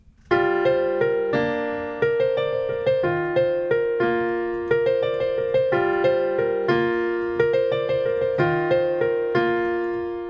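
Solo piano plays the introduction to a song, a gentle, steady chord pattern with a simple repeating melody, clear and close, each phrase ringing out before the next.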